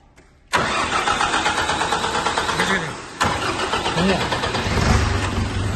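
A car engine cranks with a rapid, rhythmic starter churn, catches briefly, then cranks again and settles into a running rumble, loud and close with faint talk underneath.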